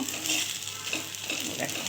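Bottle gourd leaves wrapped around a lentil paste sizzle steadily in a hot pan as the parcels are pressed and stirred, with a constant bright crackle of oil throughout.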